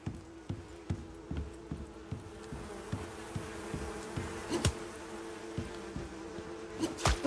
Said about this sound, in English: Go away, bees.